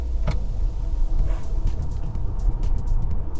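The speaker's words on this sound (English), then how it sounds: "I'm going at about 68 km/h now, and I just floor it." Mercedes-Benz EQB electric car floored from about 68 km/h, giving a steady, loud wash of road and tyre roar inside the cabin with a faint rising whine, no combustion engine note.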